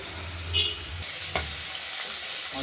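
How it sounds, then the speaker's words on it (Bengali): Bata fish fry in oil with a steady, dense sizzle close by, broken by a light clink of a utensil. "মাছগুলো ভাজা চলছে"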